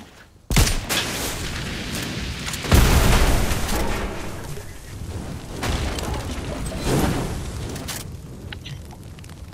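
Gunfire and booming blasts in the video game Fortnite, one sharp onset followed by a heavier thud and a sustained rumbling stretch with further bursts, loud and fairly near, no talking.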